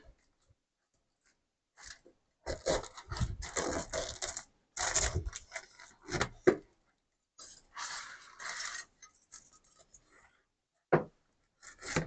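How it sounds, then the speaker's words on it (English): A knife cuts a pineapple down the middle in a kitchen, producing bursts of crunchy, fibrous slicing and scraping sounds in uneven clusters separated by short silences. "So let's go on to this second one. Let's say cut right down the middle."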